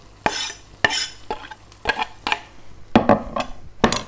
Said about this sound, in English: And then stir this through.